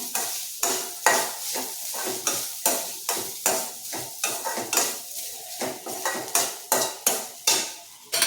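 Grated coconut stirred in ghee in a pan for a moong dal puttu, rhythmic spoon-on-pan scrapes about every half second over a soft sizzle, close and clear.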